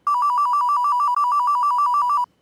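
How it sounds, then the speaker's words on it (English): A telephone rings with a bright, rapidly warbling electronic tone, two loud bursts back to back with a tiny gap between them, heard close and clear before it stops. "Is that a phone"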